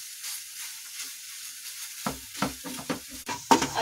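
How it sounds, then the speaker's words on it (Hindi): Khoya roasting and being stirred in a pan for mawa gujiya, a steady soft sizzle throughout with scraping stirring strokes coming in during the second half, close and moderately loud with no talking. "खोए को हमें अच्छे से भूनना है"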